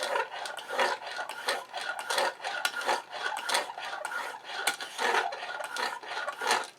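A steel broadhead scrapes rhythmically across Smith sharpening stones, about a dozen evenly spaced rasping strokes, close and fairly loud with no talking.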